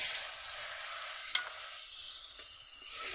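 Spices frying in a pan with a little water added give a soft, steady sizzle, broken by a single sharp clack of a utensil against the pan partway through, then quieter stirring scrapes.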